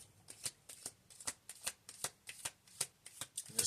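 Tarot cards being shuffled, a quiet, close run of regular riffling bursts about four per second, no talk.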